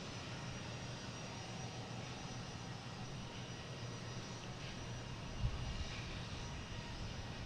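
A JetBlue Airbus A220 jet, flight 1351 from Nantucket, arrives at Boston Logan with a steady, broad engine roar that holds level at moderate distance, with one brief bump partway through.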